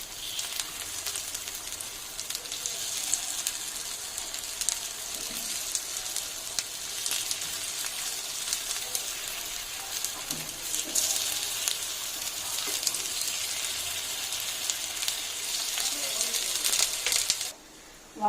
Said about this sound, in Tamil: எண்ணெயில் மொண்டு ஊற்றியும் சுடலாம், இப்படி பனியார கல்லையும் சுடலாம்